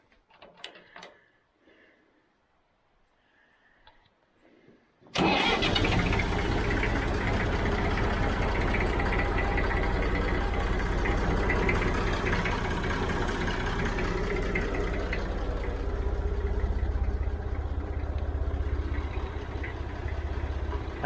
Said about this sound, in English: Let's see if the Model 50 will start.